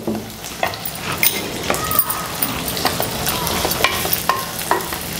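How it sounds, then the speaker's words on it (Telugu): Cashews, onions and green chillies frying together in a pan for a milk and drumstick curry, with a steady close sizzle broken by repeated scraping and clinking stirring strokes. "జీడిపప్పు ఉల్లిపాయలు పచ్చిమిరపకాయలు అన్నీ కలిపి వేగుతాయన్నమాట"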